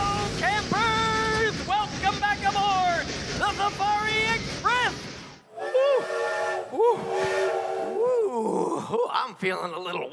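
A Safari Express train sound effect for an audio drama rumbles along with horn-like groaning tones for about five seconds, then drops away as voices begin talking.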